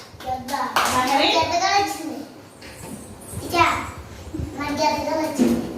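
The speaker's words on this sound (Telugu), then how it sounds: "క్లాప్స్." Children in a classroom break into a round of clapping, a burst of quick hand claps heard near, mixed with someone talking and a teacher's voice.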